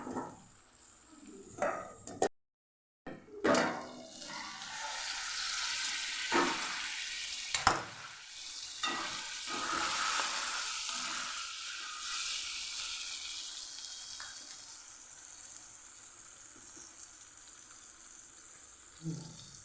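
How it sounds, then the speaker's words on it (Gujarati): Okra and tomato curry cooks in a pan. Stirring scrapes and knocks are followed by a steady sizzle that fades and softens, as if under a lid, with no talk heard. "હવે ટમેટાને ઉમેરી અને ટમેટા પાકી જાય ત્યાં સુધી આપણે એને થવા દેવાનું છે પાછું ઢાંકીને આપણે એને થવા દઈશું"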